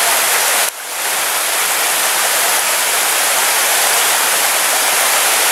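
Çaylak waterfall pours with a steady, loud, close roar of rushing water that fills the whole span without letting up, broken only by a brief dip near the start.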